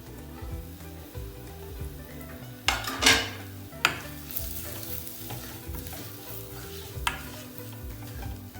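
Raw masala for prawn biryani fries in a pan with a steady close sizzle, broken by several sharp scrapes and clinks of a spoon stirring against the metal.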